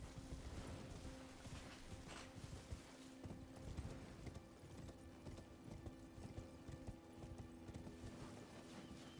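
Horse hooves clip-clopping in a rhythmic trot in the Elden Ring video game, steady and fairly loud, with game ambience beneath and no talking.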